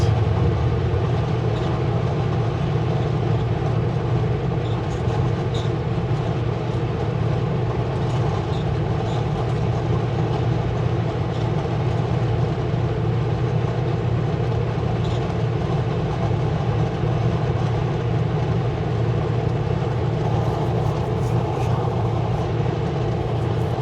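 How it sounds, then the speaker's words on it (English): A long, empty coal train with three engines rolls past in a steady, loud rumble with continuous rail noise and faint clicking, never letting up. "Here comes a train. And it's empty coal."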